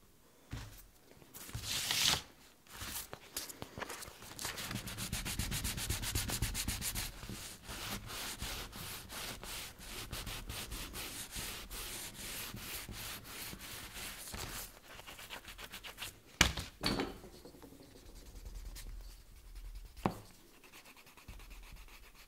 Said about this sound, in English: we can do some staining and polishing.